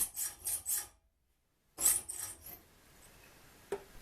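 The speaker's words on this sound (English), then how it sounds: "so I hacksawed slots into each one" A hacksaw rasps back and forth, cutting slots into hex-head bolts, with three quick strokes, a pause, then another short burst of close, scratchy sawing fading into quiet.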